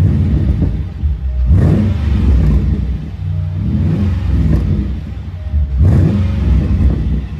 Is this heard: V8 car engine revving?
yes